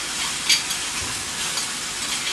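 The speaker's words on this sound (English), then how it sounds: "And we'll stir that around." Pesto being stirred into zucchini cooking in a pan, with a steady broadband sizzle and soft scraping of the stirring throughout, fairly close and alone with no talking.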